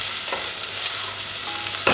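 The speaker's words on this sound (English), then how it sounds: "As the pot is nice and hot now, we're going to add the onion." Minced onion, about half an onion chopped fine, sizzles in a hot pot while meatballs and spaghetti are being made: a steady, loud broadband hiss with a couple of brief scraping stirs.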